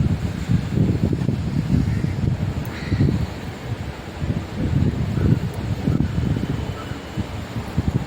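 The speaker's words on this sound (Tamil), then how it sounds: "இங்கே ரொம்ப காற்றடிக்குது, புடவை எல்லாம் பறக்கு" Gusty wind buffets the microphone in low, uneven rushes, with rustling noise rising and falling throughout.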